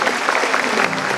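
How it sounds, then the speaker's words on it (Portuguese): Church congregation applauding during a communion service, a brief burst of dense, loud clapping from many hands. "Aplauda o Senhor mais forte."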